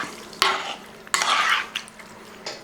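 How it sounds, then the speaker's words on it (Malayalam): A spoon scraping and clattering in a pot while sardines are mixed with kudampuli, pepper and salt, two longer close scrapes followed by shorter knocks, with no talk. "ഇനി ഇത് നന്നായിട്ട് ഇളക്കി കൊടുക്കുക"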